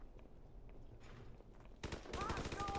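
Rapid automatic gunfire from Call of Duty Modern Warfare Remastered breaks out after a quieter stretch, loud and dense bursts of shots near the end of the clip.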